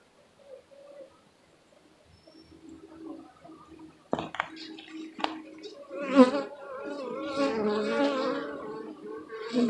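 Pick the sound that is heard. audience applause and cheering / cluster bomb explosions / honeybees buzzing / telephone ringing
honeybees buzzing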